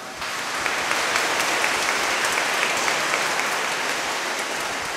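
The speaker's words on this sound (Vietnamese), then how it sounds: "chúng ta cùng hân hoan chúc tụng tạ ơn Chúa bằng một tràng pháo tay" A church congregation at a First Communion Mass for 54 children in Trung Kỳ parish bursts into sustained applause, a loud, even roar of many hands clapping with no talking.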